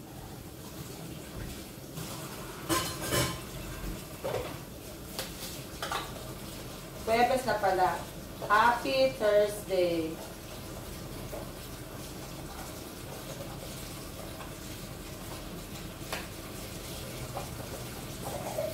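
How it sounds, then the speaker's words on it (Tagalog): Dishes are washed at a kitchen sink, with running water and scattered clinks of plates and cutlery, plus a busier burst of clattering midway, while someone talks now and then. "Magugas muna ko ng pinggan."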